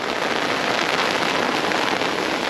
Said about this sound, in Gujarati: બહુ પડે ભાઈ વરસાદ.